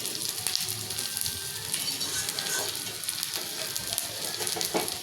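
Onions lightly frying in a pan for fish bharta, with a steady close sizzle and crackle and occasional stirring scrapes throughout, and no talk.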